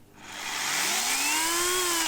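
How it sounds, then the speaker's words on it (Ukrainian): An electric saw with soft start spins up alone, its motor whine rising gradually in pitch and loudness over about two seconds before holding steady. "Дещо інша ситуація з електричною пилкою, яка має плавний запуск."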